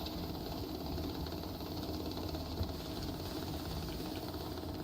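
A money counter machine in a video game whirs steadily with a low, chopping drone like a helicopter rotor, constant and even throughout, with no talking.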